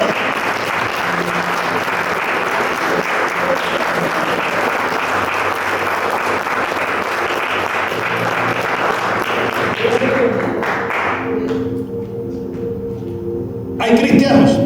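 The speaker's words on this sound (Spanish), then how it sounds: "Dale un fuerte aplauso a tu Señor" A church congregation claps loudly and steadily in sustained applause, a dense wash of hands filling the room, with a voice and music sounding under it before the clapping thins out near the end.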